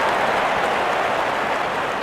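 Cricket stadium crowd applauding a batsman's fifty at a men's T20 World Cup match between New Zealand and the UAE in India: dense, steady clapping and cheering from a large crowd, continuous and loud throughout with no gaps.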